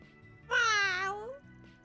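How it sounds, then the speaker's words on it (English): A cat meows once inside a video game, a clear, drawn-out rising-and-falling call lasting nearly a second over a low steady game music bed. "We can talk to a cat!"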